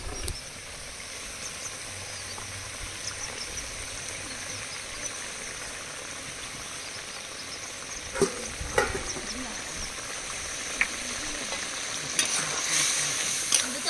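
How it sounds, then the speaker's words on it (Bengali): A cashew and poppy seed paste bubbles in a pan during cooking of a Bengali prawn posto dish, a steady close sizzle and simmer throughout, with a few louder stirring clinks near the end and no talking. "কাজু আর পোস্ত বাটা দিয়ে 1 মিনিট ফুটিয়ে নিচ্ছি"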